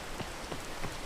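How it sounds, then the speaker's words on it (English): Steady hiss of rain falling in a video game, with a few soft pattering drops over a dense, constant wash of noise. "It's raining again."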